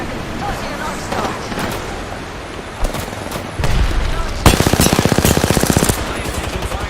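Rapid automatic gunfire in a video game, loud and close, with dense bursts of shots and a sustained machine-gun stretch near the end, under and between talk.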